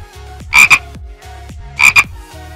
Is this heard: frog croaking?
yes